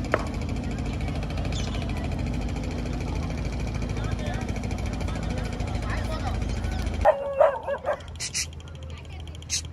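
Dogs bark at travelers carrying backpacks on a street in India: a noisy outdoor wash of traffic and voices, then several sharp, close barks and yips near the end.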